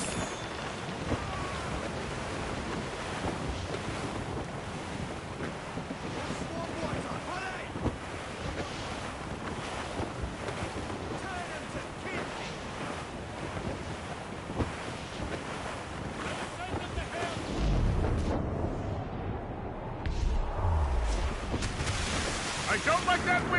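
Steady roar of wind and ocean waves on the open sea in Assassin's Creed Rogue, a dense broadband rush with sea spray and gusts that swell louder near the end.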